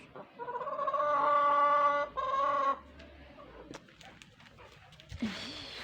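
Chickens in a garden coop in İzmir cluck in a steady run of harmonic calls, loud and close at first, then a pause and quieter scattered clucks and rustling.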